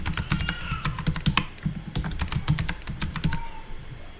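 Someone types a password on a computer keyboard while installing an Oracle WebLogic 12c server domain: a close, rapid, irregular run of crisp key clicks with no talking.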